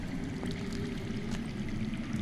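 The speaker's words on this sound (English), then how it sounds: "I hear water. From underground." Underground water flowing in a Game of Thrones video game scene, a steady low rushing stream that stays faint and even throughout, with no voices.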